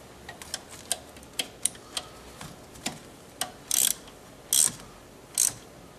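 A ratchet with a 10mm socket snugging down a GM alternator bolt gives a series of close, crisp clicking pawl strokes in irregular bursts, with a few louder, longer ratcheting clatters near the end and no talking.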